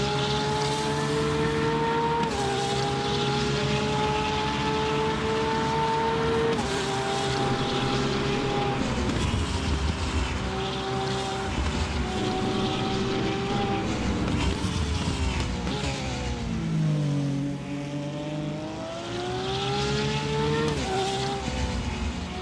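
In RaceRoom Racing Experience, a Porsche race car engine drones loudly and continuously, its pitch climbing and dropping through gear changes with a dip near the end. Faint competing cars sit in the background.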